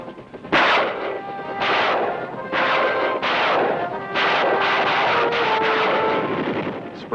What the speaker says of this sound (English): Helicopters bombarding the enemy with rockets.